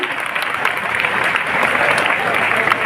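An audience at a school guidance lecture claps loudly for teachers and staff, a dense, steady burst of applause filling the whole stretch.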